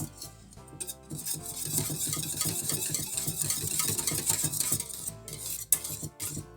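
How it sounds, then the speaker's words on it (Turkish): Starch mixture for a blueberry lokum dessert stirred in a bowl on a kitchen counter, with a steady run of utensil scrapes and light clinks under soft background music. "ocakta topaklanmaması için ilk önce bu şekilde tezgahtayken nişastaları komple karıştırıyoruz"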